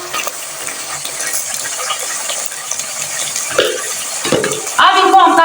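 Chicken being stirred with turmeric and salt in a pot, a steady scraping and light sizzle with utensil clinks, getting louder near the end.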